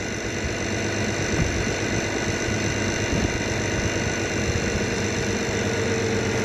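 A tractor engine runs at a steady idle after a fresh fill of oil, with leaking cylinders. Its low, continuous drone and vibration hold at an even level throughout, close and alone with no talk.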